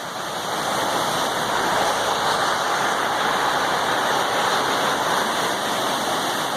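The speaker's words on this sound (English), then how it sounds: "Y'all can see the amount of water that's coming down this joker right here" A rushing mountain stream pours steadily beneath a trail bridge on the Appalachian Trail, a loud, continuous broadband roar of falling water with no pauses and no voices.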